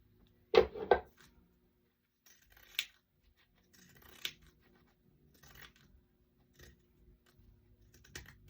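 Scissors trimming fabric after pins are pulled from a sewing project: a couple of sharp close snips near the start, then a few scattered light clicks and taps spaced out over quiet.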